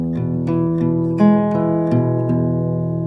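An acoustic guitar plays the intro riff, plucked notes in a steady rhythm, ringing and sustained, close and clear with no talk.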